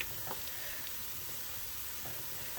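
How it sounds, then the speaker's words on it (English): Oil and spices fry steadily in a pan as a Durban-style Cornish chicken dish is started, a soft continuous sizzle with a few faint stirring clicks, fairly quiet and with no voices. "I'm just going to let that fry for 30 seconds or so"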